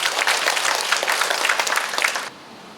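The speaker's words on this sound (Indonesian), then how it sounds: "Boleh kasih tepuk tangan buat kita semua." Audience applause at a volunteer gathering at a Tzu Chi hospital, a dense burst of many hands clapping together that holds steady for about two seconds and then cuts off abruptly.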